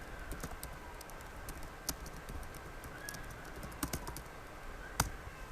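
Faint, scattered keypresses on a computer keyboard tap at an uneven pace, with a few sharper clicks standing out over a low background hiss.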